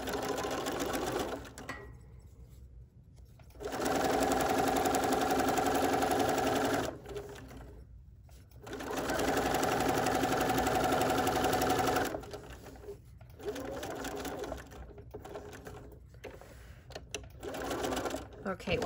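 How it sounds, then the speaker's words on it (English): A sewing machine stitching a fabric needle book runs in several loud sustained bursts of a few seconds each, close by, with pauses between runs where a person talks. "We do not want to sew too far down because we have to attach both pieces."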